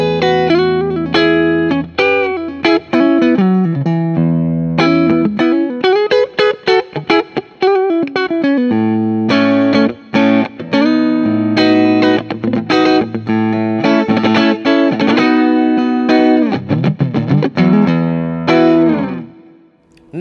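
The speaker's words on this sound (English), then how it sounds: "Split coil tones." An ESP E-II SN-II Snapper electric guitar plays in split coil mode through distortion and effects, with loud sustained chords and fast runs broken by brief stops, alone without talk.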